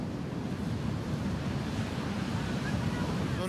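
Ocean surf washing onto a beach at Mar Chiquita where seven orcas lie stranded, a steady broadband roar of breaking waves mixed with wind buffeting the microphone, loud and continuous with no speech.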